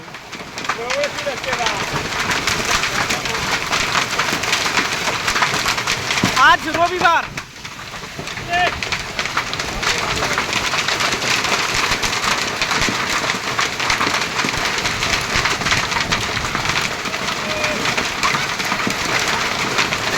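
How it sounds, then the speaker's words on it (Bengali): Dense, roaring patter of hail and heavy rain pounding surfaces nonstop, with a person speaking briefly over the din. "আমার জীবনে প্রথম দেখা একদম শিল বৃষ্টি দেখুন ফাটে শিল বৃষ্টি হচ্ছে"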